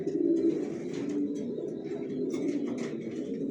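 Racing pigeons coo in a low, steady, overlapping murmur up close, a soft continuous warble with no talk over it.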